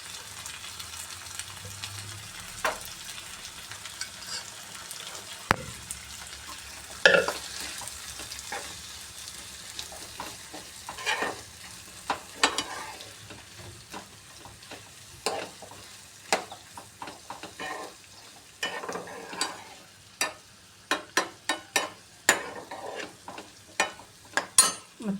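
Boiled rajma beans get stirred into an onion-tomato masala with turmeric in a pan, a low sizzle running under repeated spoon scrapes and clacks that grow busier toward the end, with no talking.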